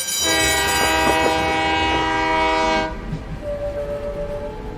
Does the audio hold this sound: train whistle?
yes